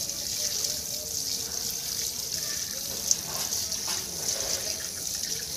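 Running tap water splashes steadily into a sink as hands are washed under it, a continuous close hiss and trickle with faint bits of talk.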